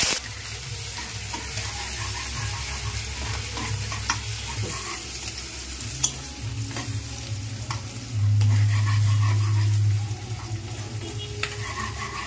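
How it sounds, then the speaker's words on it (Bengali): Onions fry and are stirred in hot oil with whole garam masala, cardamom, cloves, cinnamon and a dried chilli, a steady close sizzle with scraping stirs and a louder hiss surging briefly. "পেঁয়াজগুলো হালকা করে ভেজে নেবো বাদামি করে।"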